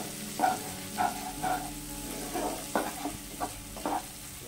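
Masala with slit green chillies fries in a pan for a spicy satin fish curry, with soft steady sizzling broken by several distinct scraping stirs of a spatula, close and alone.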